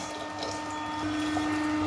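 Water streaming steadily from a Kangen water machine into a container, a soft continuous trickle and hiss with a faint mechanical hum beneath, quiet and close.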